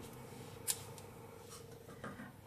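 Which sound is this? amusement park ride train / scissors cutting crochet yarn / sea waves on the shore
scissors cutting crochet yarn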